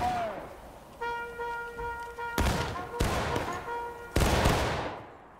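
Staggered volleys of gunfire ring out during an American Civil War battle game at East Woods, with sharp loud broadband cracks at regular intervals and lingering echoes, separated by a steady tonal hum.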